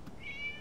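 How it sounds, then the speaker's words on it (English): A cat meowing in a mystery video game, one short, faint, high mew heard alone against quiet background. "It was just a cat."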